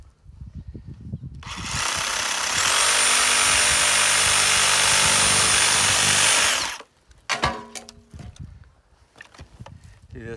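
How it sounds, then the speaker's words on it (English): A 4-inch grinder fitted with a carbide-tipped grinding wheel cuts into bonsai wood, giving a loud, harsh, continuous grinding roar for about five seconds, then stopping, followed by scattered clatter. "a grinding wheel you can put on a 4-inch grinder that has carbide, hundreds of carbide tips. You just turn it over and just grind it off."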